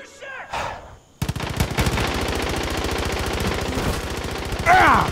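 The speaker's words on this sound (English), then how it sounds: "Who's shooting?" Rapid automatic gunfire in the video game Far Cry 5 during co-op play, a loud sustained string of evenly spaced shots following a brief voice, with another voice coming in near the end.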